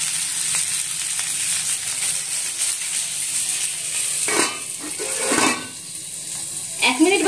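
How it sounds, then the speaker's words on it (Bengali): Vegetables for Bengali shukto fry in a covered pan with a steady, close sizzling hiss, broken near the end by a few clatters of utensils or the lid. "ঢাকা দিয়ে দিয়ে ভেজে নেব"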